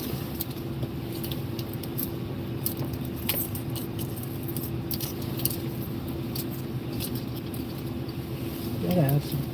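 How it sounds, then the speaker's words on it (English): A person hunts for a set of keys during a live stream, setting off small metallic jingles and clinks under a steady low hum. The jangling is sparse and irregular, rising into a slightly louder rattle at the very end. "Now I gotta find the keys."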